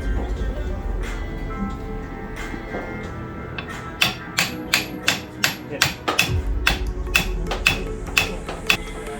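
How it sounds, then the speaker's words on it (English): A hammer strikes a front axle part on a bullnose Jeep Commando, landing about a dozen sharp metallic whacks in a quick, steady run after a stretch of low shop rumble. "maybe just give it a couple whacks"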